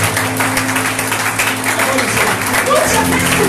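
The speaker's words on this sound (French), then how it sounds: "Put your hands together for the Lord." A church congregation claps together in steady, dense applause that carries through the whole stretch, loud and close, with voices mixed in over the clapping.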